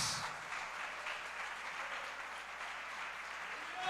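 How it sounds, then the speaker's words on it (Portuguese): Church congregation applauding together during a worship service, a steady wash of clapping held at an even level for several seconds, fairly distant and diffuse, with faint background voices. "Se você crê, aplauda bem forte ao Messias."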